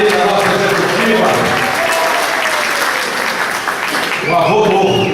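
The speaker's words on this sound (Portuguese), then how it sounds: "salve de palmas" A crowd at a political party congress claps in a loud, sustained round of applause, with a voice speaking over it on a microphone.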